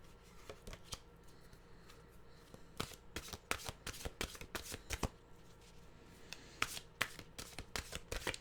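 A deck of mantra cards is shuffled by hand up close, quiet papery riffles and flicks in irregular bursts, soft and alone with no talk.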